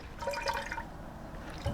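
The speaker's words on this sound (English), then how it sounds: "when it's time to get it out, you're just going to get it out of the water." A wet loom-knit baby blanket panel is lifted out of a basin of water, with soft sloshing and dripping splashes heard close up and fairly quiet.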